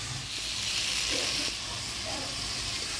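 Goat fat hissing and sizzling steadily as it goes into a frying spice mix in a village kitchen, a loud, even close-up hiss with no break.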